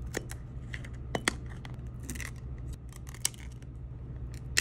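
A phone that has been heated is pried open with a tool, making sharp clicking snaps and scraping at irregular intervals over a low background hum, up close.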